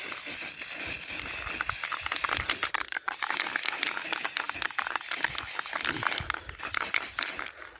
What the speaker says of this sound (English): I'm just out here with my spray paint, and I just got my darker type one.